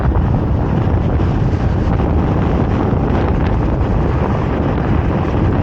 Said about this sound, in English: Lots of wind this morning. Windy, windy, windy.